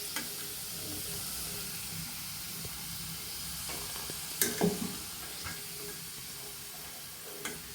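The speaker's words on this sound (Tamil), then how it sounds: "நல்லா கலகலன்னு சவுண்டு கேட்குது பாருங்கள்" Potato French fries deep frying in hot oil in a home kitchen, a steady soft crackling sizzle with a few brief stirring clinks, no talking.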